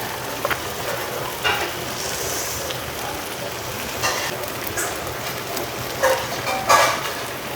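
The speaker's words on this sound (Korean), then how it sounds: "와 지글지글 지글지글한다" Food sizzling steadily in a hot pan, a continuous close crackle with a few brighter pops and clinks.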